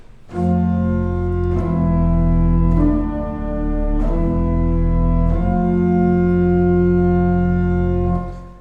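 Loud pipe organ chords with a deep, rumbling bass from large pedal pipes beneath, changing harmony every second or two and sustaining fully before fading out.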